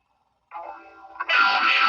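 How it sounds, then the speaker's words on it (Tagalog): Electric guitar played through an M-VAVE Tank G effects unit and recorded direct to a cellphone: a short sustained chord rings out, then a louder, heavily distorted burst kicks in and holds, saturated and bright. "Tapos pinindot ko dyan yung mga distortion."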